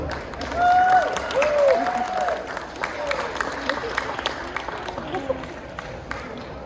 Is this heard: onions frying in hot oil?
no